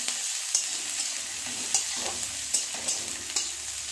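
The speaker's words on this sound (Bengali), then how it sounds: "পেঁয়াজটা ভালো করে একটু ভেজে নেব নেড়ে চেড়ে" Chopped onion and a dried red chilli fry in hot oil for a winter vegetable dish, a steady close sizzle broken by the regular scrape and clack of a spoon stirring the pan, with no voices.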